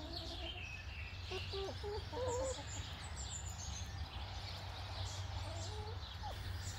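A hen, recovering from a prolapsed oviduct, makes soft clucks and short calls in a chicken run, faint to moderate and a little distant over a steady outdoor background hum.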